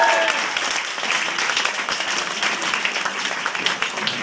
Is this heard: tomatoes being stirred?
no